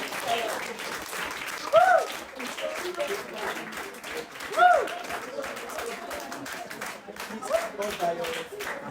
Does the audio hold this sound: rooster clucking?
no